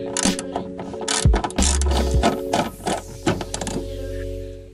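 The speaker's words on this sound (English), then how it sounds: "Use a 10mm socket to remove the bolt." A 10mm socket ratchet works a bolt loose on an NA Mazda MX-5 Miata, giving a run of close, rapid clicking bursts with short pauses between strokes.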